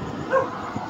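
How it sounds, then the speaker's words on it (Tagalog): A pet dog at a house at night gives a single short bark, moderately loud and close, over a low steady background hum. "nagpadok na yung aming alagang aso"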